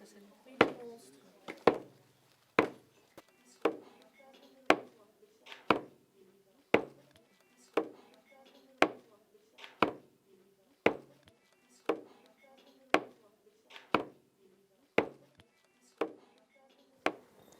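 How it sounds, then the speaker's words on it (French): Heavy thuds of a large, heavy monster sound effect strike at a slow, regular pace, about one per second, each a sharp close impact that rings briefly before fading. "ça c'est le bruit du monstre"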